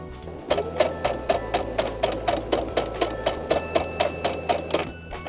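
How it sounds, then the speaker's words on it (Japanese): A sewing machine stitches front and back pieces of fabric together for a homemade face mask, making a fast, even run of loud mechanical clicks after a brief start. "裏と表を中表で合わせて縫い合わせていきます。"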